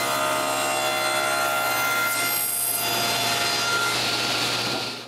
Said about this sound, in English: I can cut the excess wood on the table saw